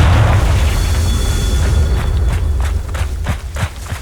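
Confringo fire spell explosion in the Hogwarts Legacy game, a heavy booming blast that rumbles and decays over a few seconds, followed by scattered crackles and small pops.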